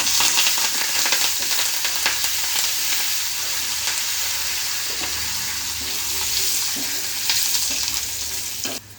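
Curry leaves sizzling and crackling in hot oil for an Andhra-style gongura pickle, a steady close-up frying hiss with occasional stirring scrapes and sharp pops throughout.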